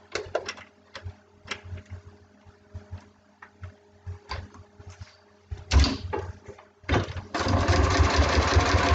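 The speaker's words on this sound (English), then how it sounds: "Take it over to the machine and sew along the line." A sewing machine stitches along a seam in small fabric pieces for foundation paper piecing, starting with short stop-start bursts and handling clunks, then running in a steady loud whir at the end, with no voice.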